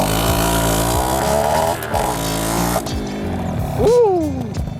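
A Yamaha Alfa II R two-stroke motorcycle engine revs up and down close by, its pitch climbing and falling through several sweeps before a final rising blip.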